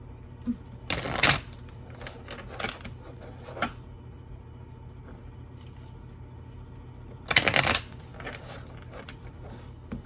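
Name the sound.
shuffling tarot cards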